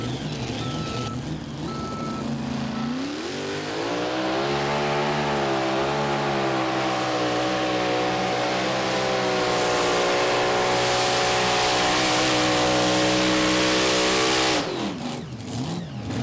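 Engine of the Bobcat Jr. modified mini rod pulling tractor at a Pro Pulling League 2023 event, climbing from idle into a loud, sustained high-rpm scream that holds for about ten seconds before cutting off abruptly.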